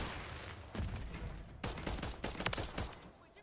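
Pistol shots ring out in Modern Warfare III, a quiet run of sharp game gunshots in quick, uneven succession mixed with other in-game battle noise.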